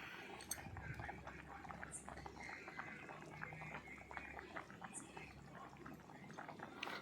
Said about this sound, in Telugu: ఉడుకుతుందండి చింతపండు